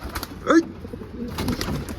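A single soft pigeon coo sounds nearby, brief and low, amid faint rustling and background noise.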